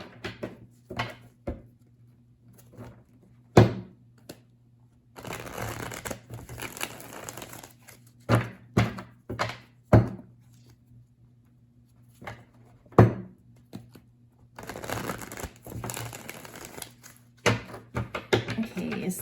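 Tarot cards being shuffled in two long riffling bursts, interspersed with sharp taps and knocks of the deck against a surface, over a low steady hum; no talking.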